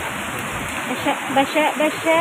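Heavy rain pours down steadily outdoors, a continuous broadband wash with occasional louder spatters, while a voice speaks briefly over it.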